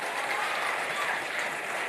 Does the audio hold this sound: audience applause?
yes